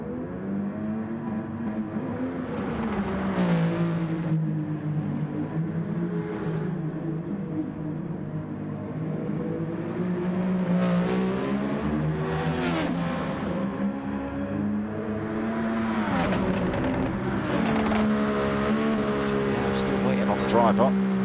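Race car engines drone and rev in a racing video game on the Alsace and Brands Hatch circuits, with pitch rising and falling through gear changes and several whining surges, under ongoing talk.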